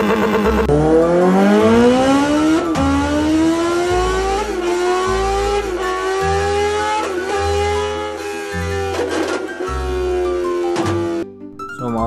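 A Honda CBR motorcycle engine revs during a test ride, loud and close, its pitch climbing repeatedly in rising sweeps, dropping between throttle pulls, with no talking.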